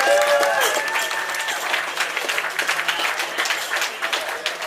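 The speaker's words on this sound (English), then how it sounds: "if I can ask for a round of applause for all the lifters this afternoon" A crowd at a British Open weightlifting event applauds the lifters, steady clapping filling the hall for several seconds with a few voices and whistling tones early on.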